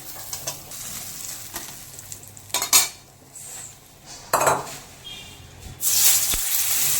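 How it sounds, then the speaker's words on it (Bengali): Pointed gourd (potol) pieces frying in oil make a faint background sizzle, repeatedly broken by loud metallic clanks and scrapes of a utensil against the pan, with a sharp burst near the end. "এখন পটলগুলো ভাজা করে নেব"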